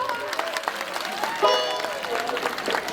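An audience at a Home Minister women's event in Kada applauds in a loose scatter of claps with a crowd murmur, as a voice carries on over the noise.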